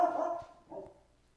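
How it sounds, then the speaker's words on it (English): A dog gives two short barks, a louder one followed by a softer one, fairly close indoors, with no talking. "Sorry about the dog."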